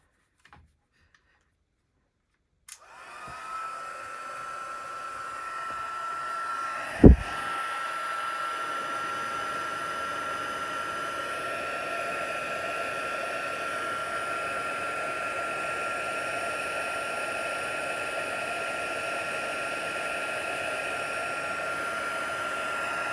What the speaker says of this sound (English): I'm just getting my heat tool now.